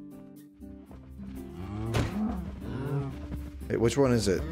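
A cow mooing in a video game, with long, low drawn-out moos and a second mooing call near the end, heard under a person talking.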